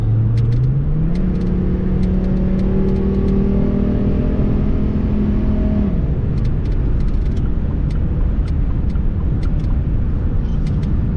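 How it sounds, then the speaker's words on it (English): A pickup truck engine drones steadily as it drives on a road, rising in pitch through the gears, then easing off into a constant rumble with faint clicks above. "truck's running pretty good, taking it for a test drive"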